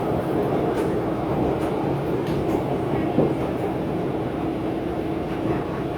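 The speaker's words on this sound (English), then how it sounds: "This is a Brown Line train to the Loop." Steady rumble of a Chicago CTA Brown Line elevated train heading to the Loop, heard from inside the car while riding, with continuous wheel and track noise and faint rattles throughout.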